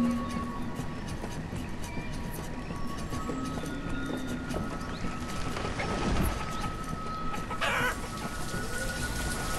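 Chickens cluck and a rooster crows in the village builder game Banished, faint and scattered over a steady patter of rain, with no one talking over them.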